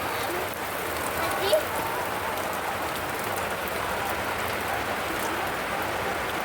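Rain falls steadily as a soft, even hiss, with a family voice briefly audible over it.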